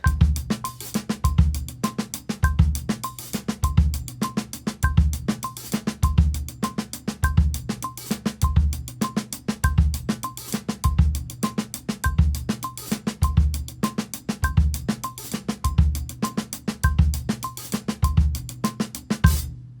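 A steady drum kit groove at about 100 BPM, with punchy kick and snare under a constant cowbell-like tick and crisp cymbal hits.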